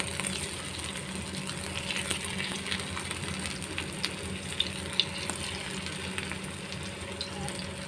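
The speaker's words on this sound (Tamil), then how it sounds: "இப்போது இந்த வாழைக்காயை ஒன்று எடுத்து வச்சிடலாம்." Plantain slices fry in hot oil with curry leaves over a medium flame, giving a steady, close crackling sizzle with occasional brief pops throughout.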